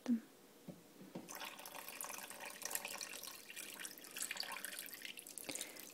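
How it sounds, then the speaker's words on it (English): Water poured from a vessel over eggs laid face down in a pot for natural egg dyeing, heard as a soft, close pouring trickle that runs steadily for several seconds after a light tap. "And we're gonna pour water on top of them."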